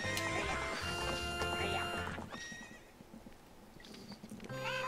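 A horse in the video game Zelda Ocarina of Time neighs loudly in a sharp whinny at the start, followed by clip-clopping hooves under game music, then another neigh at the end.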